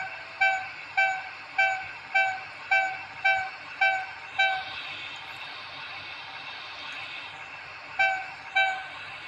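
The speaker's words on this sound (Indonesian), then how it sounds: "Kita bunyikan klakson." A train horn sounds in a series of short, evenly spaced blasts, pausing briefly before two more toots, over a low rumbling background.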